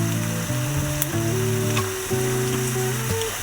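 Carrots dropped into a hot pan for vegetable couscous give a steady, close sizzle that runs through the whole moment, with a sustained tonal hum or music underneath.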